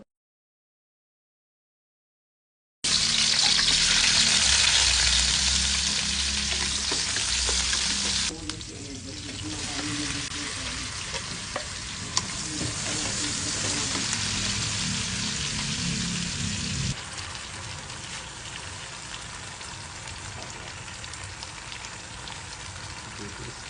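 Sautéing for a shrimp pasta: a loud, continuous hissing sizzle in a pan starts after a brief silence and runs on with stirring scrapes, then eases to a steadier, slightly quieter fry.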